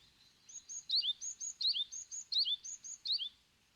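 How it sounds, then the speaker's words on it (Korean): Great tit chicks call from a nest in a narrow gap in a stone wall at a Korean mountain temple, a quick repeating series of high, thin chirps in short bursts, clear and alone against a quiet background. "새끼 박새들 울음소리가 커져가는 부도전."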